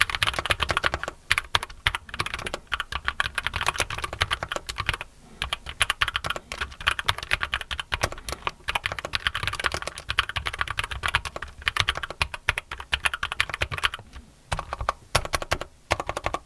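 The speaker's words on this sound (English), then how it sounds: "Typing sound depends on the switches that you will use on the NocFree" Steady, fast typing on a NocFree portable mechanical keyboard, dense clicking keystrokes running continuously and close up with brief pauses, no voices.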